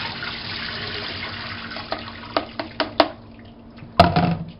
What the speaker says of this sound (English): we're going to drain this in our nice strainer here